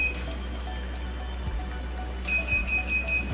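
A flood-warning electrical safety device sounds its buzzer in quick beeping pulses, thin and piercing, clearly audible above a steady low hum with faint water-like noise.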